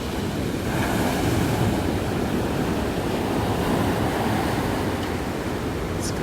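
Strong gusty wind buffeting a DJI Mini 2 drone flying outdoors. Loud, continuous broadband rushing and roaring runs evenly from start to end with no pauses.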